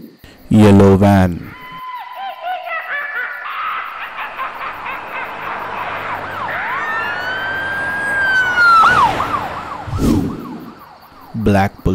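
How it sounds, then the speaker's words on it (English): A police car siren wails in a cartoon-style vehicle sequence, rising and falling tones sweeping through the middle, with a short snicker-like sound at the start and brief voice near the end. "Black police car."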